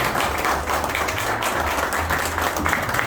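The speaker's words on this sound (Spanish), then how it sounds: "Más fuerte el aplauso" An audience at a cultural festival talk on salves and atabales applauds with sustained, fairly loud clapping from many hands, over a faint low hum and some background voices.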